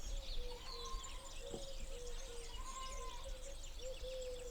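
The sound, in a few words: birds chirping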